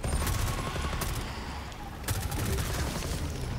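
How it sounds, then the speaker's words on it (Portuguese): Steady automatic gunfire in the Rainbow Six Extraction video game as players shoot at alien vines, sustained rapid bursts with a couple of sharper volleys, fairly loud and continuous, with faint speech underneath. "E agora a gente tem que atirar nesses espécies de cipós"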